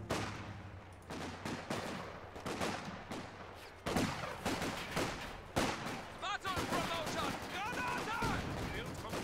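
Sten gun bursts in a World War II strategy game battle, British against German forces: rapid crackling automatic fire in repeated bursts with distant explosions, heard under a commentator's voice.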